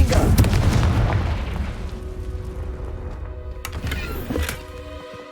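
The Confringo blasting spell in Hogwarts Legacy detonates with a loud booming explosion and heavy low rumble that fades, followed by a second sharp impact and crackling debris.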